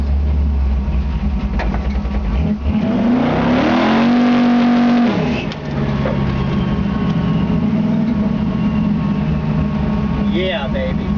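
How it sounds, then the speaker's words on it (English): A 1956 Chevy 3100 pickup truck doing a burnout in first gear, its loud engine roaring and revving up with a rising whine, then dropping and holding a heavy rumble, close and continuous. "So we'll do a quick little burnout."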